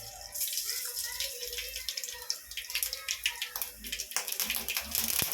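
Mustard seeds and lentils spluttering in about two ladles of hot oil, with irregular sharp pops and crackles over a wet, hissing sizzle close by.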